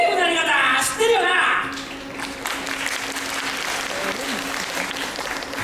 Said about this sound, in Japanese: パラパラの拍手ありがとうございます。